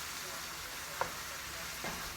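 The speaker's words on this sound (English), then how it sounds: "So I'm going to let that cook down with the sausage for a little bit." Sausage frying in a pan for a shrimp creole, a steady close sizzle and crackle with a couple of small pops and utensil clicks.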